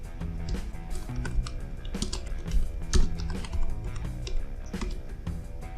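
Quick bursts of typing on a computer keyboard while entering a poll question, close clicky keystrokes in uneven clusters with short pauses between them, no speech.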